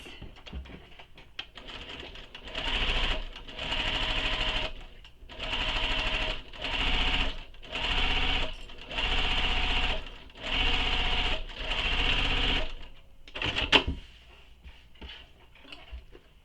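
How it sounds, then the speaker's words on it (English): A sewing machine stitches a bag seam in repeated bursts of fast, even whirring separated by short pauses, loud and close, with no talking. "sew this with the seam allowance given in the pattern"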